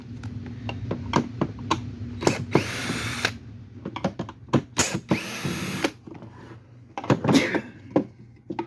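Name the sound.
power drill removing screws from a Sanitaire canister vacuum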